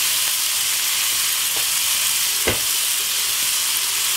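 Bacon frying in a pan at home, a steady close sizzle throughout with a brief sharp crackle pop partway through.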